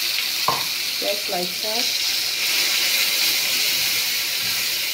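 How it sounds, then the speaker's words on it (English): Blended tomatoes poured into hot oil with frying fish, a sharp burst at the start settling into a loud, steady sizzle that hisses throughout, with a voice speaking briefly near the beginning. "so we are going to add our tomatoes which we have already blended"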